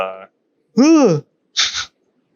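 A person at a tabletop role-playing game session lets out a sudden, loud, close sneeze, preceded by a short vocal sound and a drawn-out voiced intake, against an otherwise quiet room.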